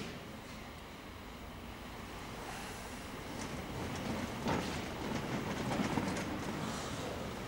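A milk train pulls into Paddington Station with a low, continuous rumble of rolling railway wagons that slowly grows louder, with faint clanks and rattles in the middle and no talking.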